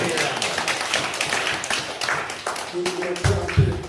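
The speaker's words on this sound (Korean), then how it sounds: "박수 하나 드려요" Congregation clapping at a Korean Christian prayer revival meeting, a dense patter of many hands under continuous voices, with a few louder close claps near the end.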